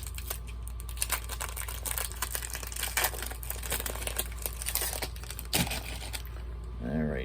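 Sports card pack wrapper crinkling as it is torn open: close, quiet, irregular plastic crackles and rustles throughout, with a sharper rip near the end, over a low steady hum.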